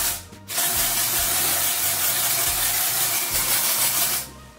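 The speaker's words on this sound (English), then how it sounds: "So I'm taking my Batiste dry shampoo." Batiste dry shampoo sprayed onto a synthetic lace front wig: one steady, close hiss of aerosol spray lasting about four seconds, starting and stopping cleanly with no talking.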